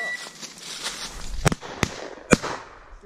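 Shotgun blasts from a Browning Sweet 16 ring out during an upland bird hunt for woodcock, three sharp loud reports in quick succession over faint rustling outdoors.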